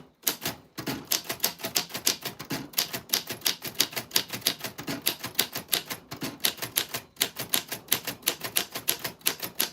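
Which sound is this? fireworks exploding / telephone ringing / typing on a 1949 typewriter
typing on a 1949 typewriter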